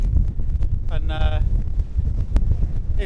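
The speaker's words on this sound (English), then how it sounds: "if this wind had dropped" Strong, steady wind buffets the microphone on an exposed seabird cliff top at Bempton Cliffs, a constant low roar throughout with a person talking over it.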